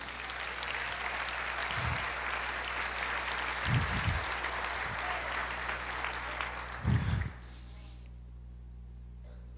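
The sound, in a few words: congregation applauding in church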